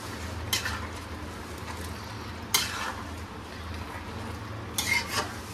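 Soaked sago tipped into a pan with chili, cumin and turmeric and stirred, with a soft, continuous frying hiss broken by three sharp scraping stir strokes against the pan, close and without talk.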